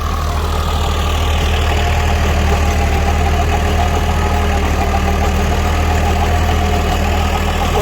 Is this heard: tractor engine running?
yes